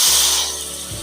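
Chicken korma fries in a pot, giving a loud, close sizzle with a steady hiss that eases slightly toward the end.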